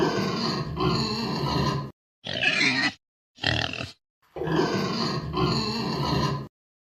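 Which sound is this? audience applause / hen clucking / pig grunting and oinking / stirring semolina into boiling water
pig grunting and oinking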